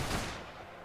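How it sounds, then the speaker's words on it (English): A musket volley fired in the video game Mount & Blade Warband, set in the era of the Sun King: one loud, dense burst of gunfire that fades quickly, heard alone. "Ready! Fire!"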